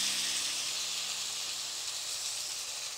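Tomato puree hitting fried onions in a pan while cooking dhaba-style paneer masala, giving a steady, soft sizzling hiss that continues evenly throughout.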